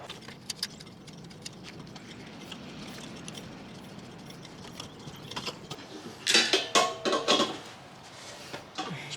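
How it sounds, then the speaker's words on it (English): A gas bottle is swapped over on a narrowboat, with scattered metallic clinks and taps, then a close burst of clanking and rattling metal around the sixth second. "we have to change the gas bottle over."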